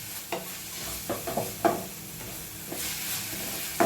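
Turmeric powder sizzling and frying in a pan for a mung bean palya, a soft steady hiss broken by several scraping stirs of a spoon, close and moderately quiet.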